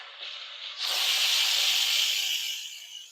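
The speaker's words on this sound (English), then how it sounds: "we're going to release the steam manually" An Instant Pot pressure cooker that has just finished cooking butternut squash vents steam manually, a low hiss building into a loud, steady close-up rush that lasts several seconds before easing off slightly.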